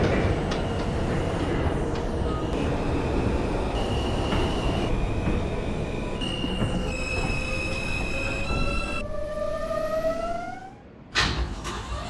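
An R160 M subway train in the OpenBVE simulator game runs along the track with a steady rumble, rising and shifting motor whines and wheel squeal, then a sudden clunk near the end, with no voices.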